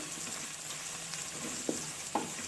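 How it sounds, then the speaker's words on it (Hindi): Onions frying in a pan with green coriander, green chili, red chili, salt and spices for a radish curry, a soft steady sizzle with a couple of brief stirring knocks, close and quiet. "हरा धनिया और हरी मिर्च प्याज इस वक्त मैं फ्राई कर रही हूँ"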